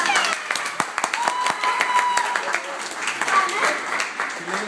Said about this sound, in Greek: χειροκρότημα. Ποιος είναι αυτό το χειροκρότημα?